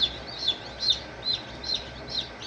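Newly hatched chicks in an incubator give repeated high, thin peeps at a steady pace, close and fairly clear over faint background hum.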